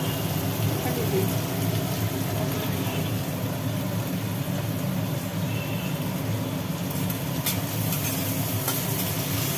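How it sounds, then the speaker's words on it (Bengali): Onions fry in oil with a dense, continuous crackling sizzle, fairly loud and steady, joined by occasional stirring scrapes. "পেঁয়াজটা একটু ভাজি ভাজি করা হচ্ছে"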